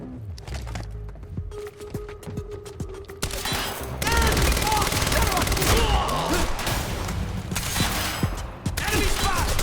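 Dense gunfire in the video game Quantum Break, rapid overlapping shots and bursts with impacts and debris, loud and continuous, under shouted combat voices.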